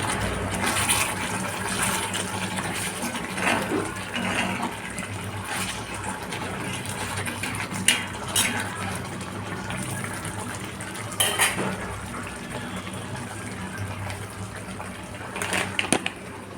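Metal utensil scraping and clinking in a pot while stirring mushroom masala gravy, Bengali style, with a steady simmering hiss and scattered louder clatters, close and continuous with no talk.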